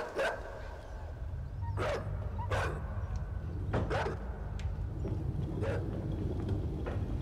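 Dog barking in the side-scrolling video game Inside, several sharp barks spaced a second or two apart over a low murky ambient rumble.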